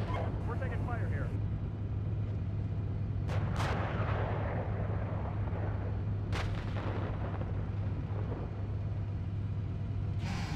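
Gunfire striking a tank in the Steel Beasts combat simulator, heard as sharp bursts and impacts over a steady low engine drone, with voices talking through the sequence.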